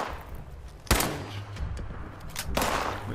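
Gunfire in the video game Fallout 76, a sharp shot followed by a second burst a moment later, moderately loud over background game noise, with no talking.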